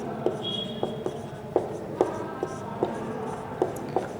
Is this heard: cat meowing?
no